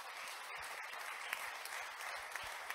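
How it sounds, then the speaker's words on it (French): Audience applauding speakers at the close of a French presentation, a steady even wash of many hands clapping, fairly faint and distant, with no voices over it. "On peut applaudir nos intervenants."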